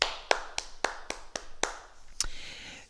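A small group of martial arts students claps for themselves after a routine, about eight sharp, evenly spaced claps, close and fairly quiet in a calm room.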